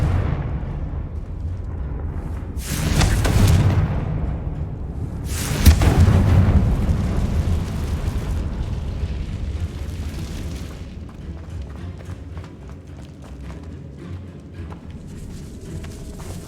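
The Confringo blasting spell explodes in Hogwarts Legacy with two heavy, deep booms a few seconds apart, each with a rumbling tail, over a continuous low game ambience.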